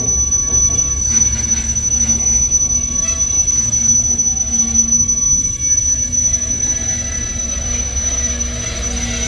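Loud, piercing squeal of brakes on a slow-moving eastbound W&LE stone freight train in Medina, Ohio, over the heavy low rumble of rolling railcars, sustained for several seconds.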